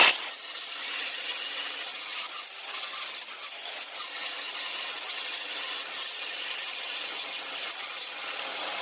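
A big industrial grinder smooths steel plates on a custom A-frame gantry hoist build, giving a steady, continuous abrasive hiss close by with slight fluctuations and no talking.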